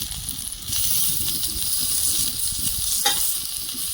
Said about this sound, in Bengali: তেল লাগলে ভাজা ভাজা হবে পাতা কিন্তু পুড়বে না